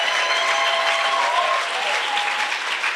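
A church congregation applauds in praise, a dense steady wash of clapping hands that holds loud and even throughout, with no pauses and no clear voices rising above it.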